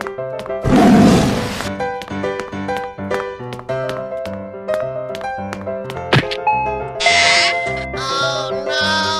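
A cartoon tiger gives a short, loud roar near the start, set against a bouncy plucked melody with regular thunks and cartoon sound effects that run through to the end.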